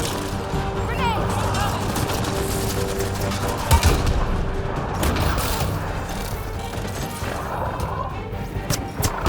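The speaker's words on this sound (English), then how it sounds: "Grenade!" A grenade blast goes off in a combat scene in the Mass Effect Andromeda video game. It lands in the middle of dense, loud battle noise and gunfire, with voices calling out over it.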